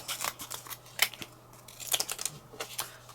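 Cardboard being cut down to size for cardmaking, a series of crisp irregular snips and crunchy clicks close to the microphone, with no talking.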